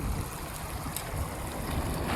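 Water flows steadily through an irrigated farm field planted with maize, where soil bunds are being built. The broadband rushing and gurgling holds close and constant, with no voices over it.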